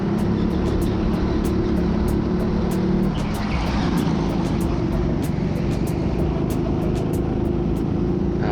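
Go-karts racing on the indoor TeamSport Birmingham track, a continuous droning engine whine close by with a shift in pitch midway as karts round a right-hander, plus regular faint ticking clicks.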